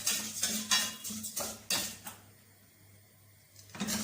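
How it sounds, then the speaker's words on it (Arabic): Vermicelli frying in oil in a pot for soup is stirred with a utensil, giving repeated scraping and metallic clinks against the pot over a low oil hiss, close and fairly quiet. "هنقلب لسان العصفور لحد ما يوصل لدرجه الصفار اللي انا محتاجها"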